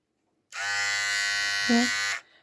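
A Philips Hairclipper series 3000 HC3525 hair clipper switched on, a steady close electric buzz running for under two seconds before it cuts off.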